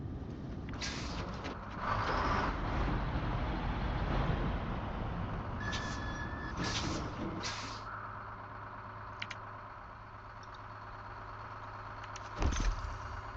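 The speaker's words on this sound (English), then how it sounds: "That is a vehicle. Look at the suspension drop." A truck drives in the SnowRunner video game, with a steady engine rumble and mechanical noise, brief tonal beeps and whines, and a sharp knock near the end, fairly faint throughout with no talk.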